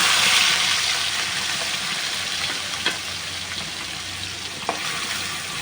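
Shrimp frying in a pan over a lowered gas flame, a steady close sizzle with a couple of faint clinks or stirring taps, no talking.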